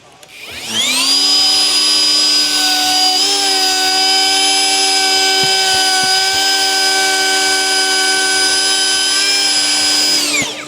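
A router with a worn 15mm round-over bit cutting along 25mm MDF with dust extraction running, a loud sustained high whine that spins up, holds steady for about ten seconds, then winds down.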